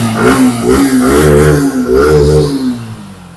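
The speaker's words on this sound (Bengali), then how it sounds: "গাড়ি কিন্তু স্টার্টিং এ রয়েছে দেখো স্টার্টিং এ রয়েছে শুনতে পাচ্ছ" A used motorbike engine idling after being started, a loud close throbbing putter whose pitch swells and dips in a few uneven revs before settling, no speech over it.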